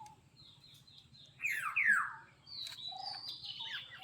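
A myna bird gives a burst of bright, sliding chirps in the middle, then scattered higher tweets, fairly close over a low background rumble.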